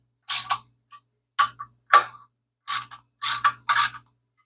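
A ratchet tightening fittings on a fabricated Hemi intake manifold, several short bursts of loud, close clicking separated by brief pauses.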